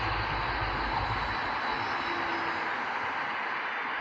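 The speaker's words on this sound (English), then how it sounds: "when you fly a lightweight RC airplane" Arrows RC Trekker, a lightweight 1.2-meter RC airplane with floats, flying with a steady, continuous electric motor and propeller drone, fairly loud and unbroken, no voices.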